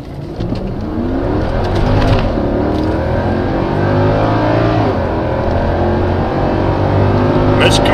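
A 2007 Mercedes CL63 AMG pulls away hard from a standstill in automatic mode, its engine note climbing through gear changes as a loud, continuous interior roar.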